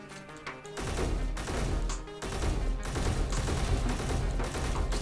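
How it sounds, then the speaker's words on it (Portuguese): Video game explosions and gunfire in Space Engineers, a dense, continuous barrage of booming blasts and crackling shots that layer over one another for several seconds without pause. "Isto faz aqui umas explosões do caraças."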